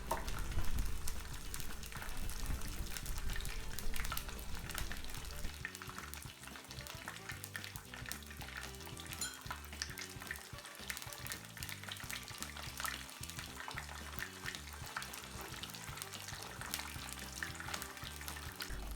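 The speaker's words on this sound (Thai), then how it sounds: "นำปลาสลิดที่เราพักไว้มาทอดไฟกลางค่ะ ทอดด้านละ 10 นาทีนะคะ" Gourami fish frying in oil over medium heat, a steady dense sizzle and crackle that carries on without pause throughout, close and fairly quiet.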